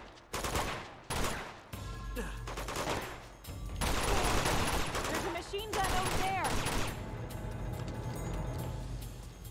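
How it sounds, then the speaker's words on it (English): Machine gun fire crackles in loud sustained bursts in Uncharted 2: Among Thieves, alternating with pauses, while someone talks over the action. "There's a machine gun over there."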